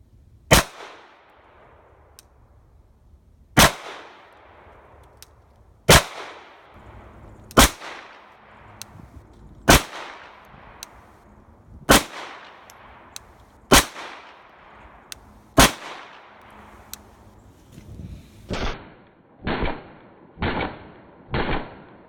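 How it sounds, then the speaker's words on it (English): Single shots from a Springfield XD Mod 2 9mm pistol with a threaded barrel crack out at a range, about a dozen sharp reports spaced a second or two apart, then a quicker string of four at the end. "We're just going to put a few rounds through each one of them."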